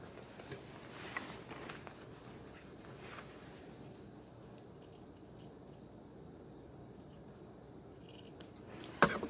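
Scissors snip V-shaped notches into women's shirt fabric at a cutting table, a few soft, close cuts through cloth, with a sharper snap near the end.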